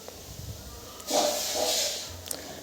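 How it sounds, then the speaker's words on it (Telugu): Onions and green chillies sizzling in hot oil in a kadai, a soft steady hiss that swells for about a second mid-clip with a brief spitting crackle near the end. "కడాయిలోని ఆయిల్ వేసుకొని ఉల్లిపాయలు పచ్చిమిర్చి వేసుకొని బాగా ఫ్రై చేసుకోవాలి"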